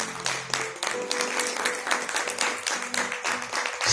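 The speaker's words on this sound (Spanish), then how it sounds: "Denle un aplauso al autor de la palabra de Dios." A church congregation breaks into steady, dense applause that fills the room, with scattered voices and cheers rising underneath the clapping throughout.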